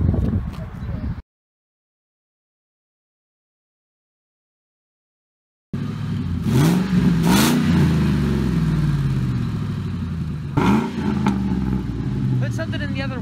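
Car engine revving with dish soap poured into the exhaust pipe, loud close rumbling revs and sputters with clattering bursts, cut by a few seconds of silence partway through.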